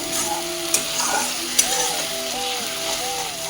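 Vegetables stir-frying with spices in a little oil in a pan, loud sizzling with two sharp utensil clinks, while a faint melodic tone drifts in the background.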